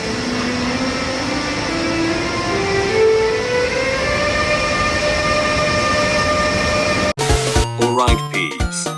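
An R179 New York subway train rumbles loudly with a steady rolling drone and rising motor whine, then abruptly cuts to a different, choppier burst of sound near the end.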